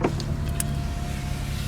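A 2013 BMW 335i's one-touch power window motor hums steadily for a moment, a low mechanical whir inside the cabin, with a brief click at the start.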